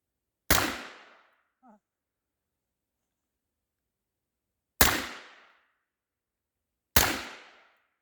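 Three sharp, loud AR-15 rifle shots ring out at an outdoor shooting range, each with a short decaying echo, spaced several seconds apart with silence in between.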